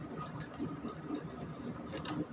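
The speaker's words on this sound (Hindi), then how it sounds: "एक तरफ से हम सिलाई स्टार्ट करेंगे।" A sewing machine stitching the sleeve seam of a suit, a quiet, fast mechanical whirr with a steady rapid rhythm, heard close but faint.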